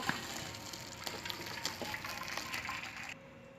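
Boiled vermicelli and its cooking water are poured into a strainer, a soft, continuous gushing and splashing of water that runs for a few seconds, then cuts off abruptly; no voices are heard.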